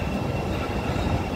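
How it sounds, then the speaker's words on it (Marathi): A Chicago CTA metro train pulling into Fulton underground station, a brief steady rumble of wheels and carriages at moderate distance. "ही माझी ट्रेन आली"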